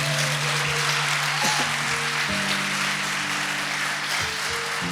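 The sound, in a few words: congregation applauding in church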